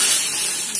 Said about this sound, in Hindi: अब हम इसमें ध्यान से छौंक लगाएंगे।